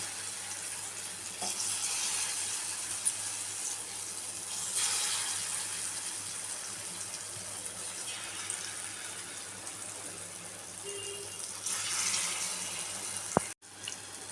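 Elephant foot yam slices frying in hot oil, giving a continuous soft sizzle at moderate level with a few brief clatters of utensils near the end.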